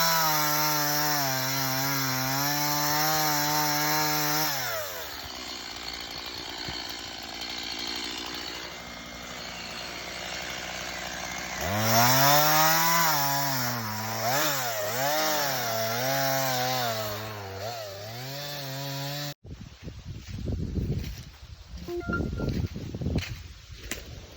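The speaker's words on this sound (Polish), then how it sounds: "Dawaj, odpalę piłę." A chainsaw idles and revs, then bites into wood while clearing a strip of land, its loud buzzing engine rising and falling in pitch over a long stretch before cutting off abruptly.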